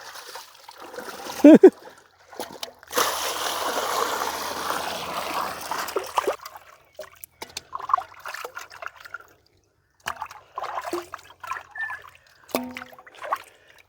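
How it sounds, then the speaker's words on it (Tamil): Water from a village pond trickling and splashing along an irrigation canal in uneven bursts, with a sustained gush in the middle and quieter dribbling and brief gaps afterward. "தண்ணி ஓடிக்கொண்டிருக்கீங்க வாய்க்கால் எப்படி இருக்குது பார்க்க குளத்துலேருந்து தண்ணி வந்து கொண்டு இருக்கு"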